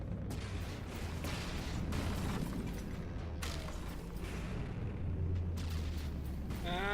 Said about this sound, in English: Torpedoes coming in and big boom.